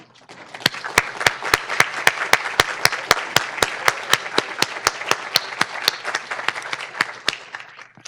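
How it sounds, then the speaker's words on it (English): A graduation audience applauds its faculty at a PsyD pinning and hooding ceremony, with sharp, loud rhythmic clapping in a steady beat over a broader wash of hand claps, fading near the end. "let's give them a round of applause"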